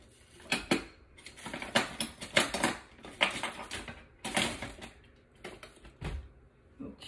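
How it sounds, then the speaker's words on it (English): Metal cutlery rattling and clinking in a kitchen drawer while someone digs for a teaspoon, a close series of irregular clattering bursts with short pauses, no talking. "Let's see if I can find a teaspoon."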